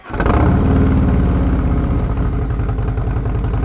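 A 2024 Harley-Davidson Street Glide fitted with a Tab Performance exhaust starts and revs up loudly and up close, then settles into a deep, steady, pulsing V-twin rumble that continues to the end.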